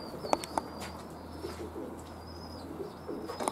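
Young racing pigeons in a loft, being readied for training, give low soft coos beneath brief wing flaps and chirps, steady and close, with no voices.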